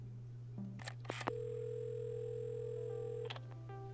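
Telephone dial tone from the video game Assemble with Care: a steady electronic hum with a few short beeps and clicks, then a sustained tone lasting about two seconds before it cuts off, with no speech.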